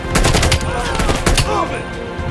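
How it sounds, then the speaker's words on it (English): A turret machine gun fires rapid bursts in the video game Call of Duty: Black Ops Cold War, loud and close, mixed with other gunfire and game battle noise. "Find cover, that turret will tear you up!"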